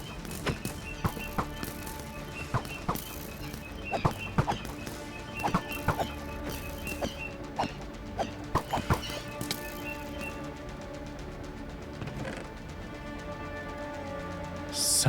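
Horse hooves clip-clop in Minecraft, a run of sharp, fairly regular knocks that thins out toward the end, close and clear with light background sounds and no talking.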